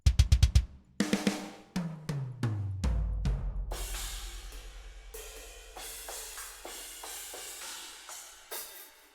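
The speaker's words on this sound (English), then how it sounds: "This is a, metal kit, which out of the box would sound like this." A virtual metal drum kit from the Metal! library in its default sound: sharp tom and kick hits, a descending fill, then crashing cymbals over a fast driving double-kick pattern, loud and busy with no voices.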